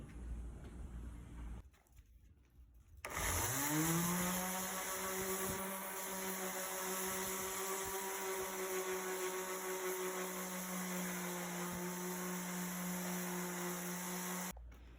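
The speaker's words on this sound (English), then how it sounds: "I'm going to continue to sand the rest of it and see what we have at the end." A power sander on a wooden dresser spins up after a quiet start, its motor whine rising in pitch and then holding a loud, steady, close drone until it cuts off near the end.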